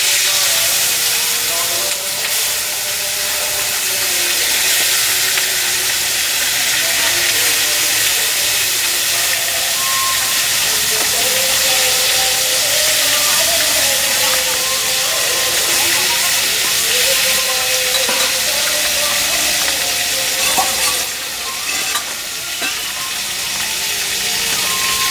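Fish slipped into hot mustard oil with a pinch of salt sets off a loud, continuous hiss and sizzle. The hiss stays dense and close for the whole stretch and eases slightly near the end.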